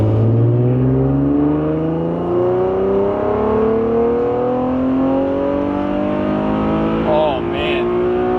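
An Infiniti G37 sedan tuned on E80 fuel accelerating hard, its engine note climbing steadily through a long loud pull with rising whine, close and continuous, with voices reacting near the end.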